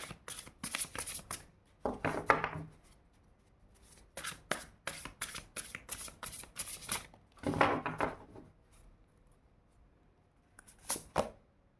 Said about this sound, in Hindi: 2 कार्ड्स हम लेंगे क्रो डेक से।